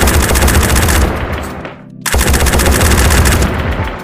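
An FN MAG / M240B machine gun in the game Tactical Assault VR fires from a standing position in loud, rapid sustained bursts, with one brief pause before firing resumes.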